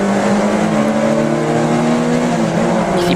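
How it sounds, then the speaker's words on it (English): Stock Hatch race cars roar off the start at Donington Park, several engines revving hard together in a loud, sustained drone with rising tones as the pack accelerates toward Redgate. "the red lights go out for the second time this weekend. The cars head down towards Redgate for round 8 of the championship"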